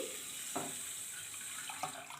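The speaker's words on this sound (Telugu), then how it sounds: "ఇలా వాటర్ వేసుకున్నాక" Continuous rush of water pouring into a pan of sugar for syrup, steady and close, with a couple of soft knocks from the vessel.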